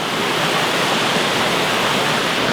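A river flows beneath a stone bridge, a steady, dense rushing roar heard close and loud with no break.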